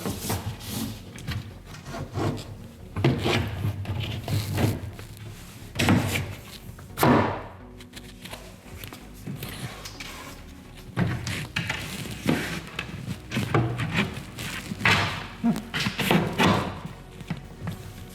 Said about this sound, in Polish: Zakładam nasz cukół.